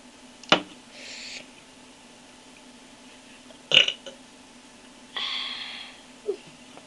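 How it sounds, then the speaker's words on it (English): Someone burping after drinking 7-Up: three or four separate belches spaced a couple of seconds apart, close and fairly loud, with quiet breathing between them. "I'm going to drink 7-Up and burp."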